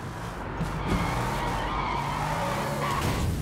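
Car skidding without braking in the Sleeping Dogs video game: a loud, continuous tire screech and engine roar that sustains throughout, with a few brief squeal peaks.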